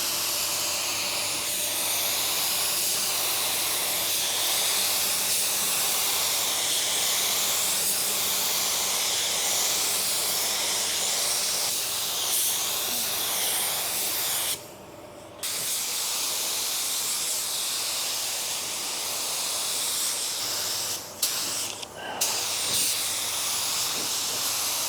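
A spray gun lays down a second coat of automotive sealer, a continuous loud airy hiss that runs almost unbroken for the whole stretch, cutting out briefly about two-thirds of the way through before resuming.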